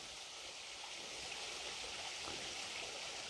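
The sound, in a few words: water flowing down concrete aqueduct channel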